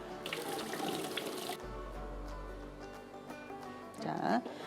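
Tap water runs into a kitchen sink while cuttlefish is rinsed by hand. The flow is a continuous hiss with shifting splashes as the water hits the flesh and the basin, and a voice talks over it.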